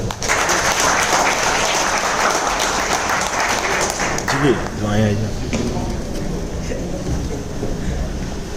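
Loud crowd applause at an E Biotorium company gathering in a Mumbai head office fills the first half, then thins as a voice takes over near the microphone over scattered remaining claps.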